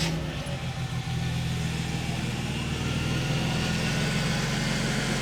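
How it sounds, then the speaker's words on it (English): A Mercedes 300E W124 engine with a stalling issue runs at a steady idle after a cold start, a low continuous rumble with a constant hum throughout, fairly close and unchanging. "Cool, I think it is time to start the engine."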